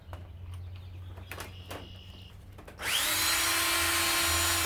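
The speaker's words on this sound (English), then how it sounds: "Put it on low gear if you got a tight bolt." A power drill in low gear spins up suddenly and loudly to loosen a tight bolt on a power washer motor, a steady high whine that follows quiet clinks of work.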